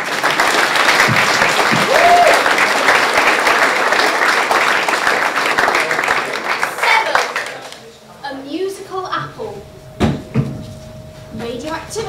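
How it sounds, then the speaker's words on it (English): Audience applause for a contestant at a FameLab UK regional science-communication final at The Glee Club, Oxford: dense, loud clapping for about seven seconds, then tapering off as a voice begins talking over scattered remaining claps. "you should give her a big round of applause"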